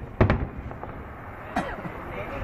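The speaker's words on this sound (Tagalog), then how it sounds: "Ganda ng fireworks." Fireworks for the 2010 Eid al-Fitr celebration in Riyadh: two quick sharp pops at the start and another a little over a second later, fairly distant and moderate, over low background noise with faint voices.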